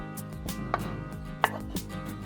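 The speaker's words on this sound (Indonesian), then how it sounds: "tempe diiris kecil-kecil" A knife cuts tempeh into small pieces on a cutting board, giving several light, irregular chopping taps close by over a steady background hum.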